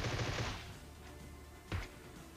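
Shots from a shooter game: a sustained burst of rapid gunfire for about half a second, then a single louder shot a moment later over a steady background hum, with no talking.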